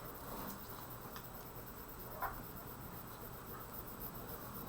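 A pencil shades lightly over paper while a figure's leg is being drawn, giving a faint, steady, soft scratching with a single slightly louder stroke partway through. No one speaks.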